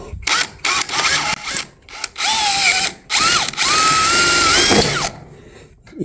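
Power driver sinking a self-tapping screw into a trailer during wiring work, several short bursts of motor whir separated by pauses, then a longer sustained run before stopping, loud and close.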